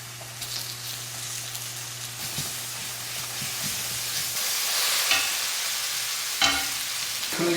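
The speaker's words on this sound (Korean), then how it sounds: "미소를 넣고 볶고 면을 넣는다." Miso and noodles are stir-fried in a pan with a wooden spatula in a forest house kitchen, giving a steady soft sizzle with occasional scraping stirs and light clacks, close by.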